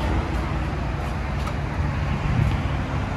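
A Chevy Silverado pickup with a 5.3L V8 and aftermarket exhaust with black tips idles steadily, a low continuous rumble with a faint hiss and no revving.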